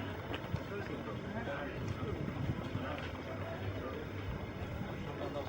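A motorboat ride near Famagusta brings a steady, rumbling engine and water churn that stays close and continuous. Scattered knocks and splashes punctuate the drone, with no clear speech.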